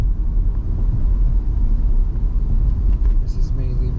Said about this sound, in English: let me just show you a little bit of me kind of driving around here